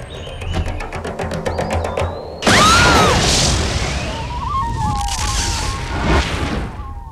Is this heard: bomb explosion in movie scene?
yes